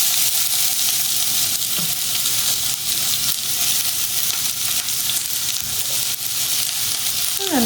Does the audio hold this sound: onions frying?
yes